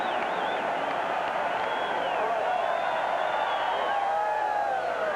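Stadium crowd at a 1990 Clemson vs. Duke college football game, a steady dense roar with scattered whoops and cheers rising and falling throughout, loud and continuous.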